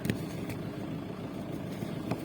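A car engine idles steadily with a low continuous rumble, a few faint clicks and knocks over it, no talking.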